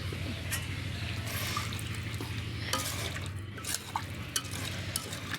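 Water pours into a pan of chicken curry after the meat has been fried down in oil, giving a steady trickling, stirring wash over a low continuous hum with a few small clinks near the end.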